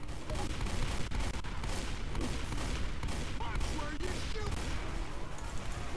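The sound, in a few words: shotgun fire in Left 4 Dead 2 video game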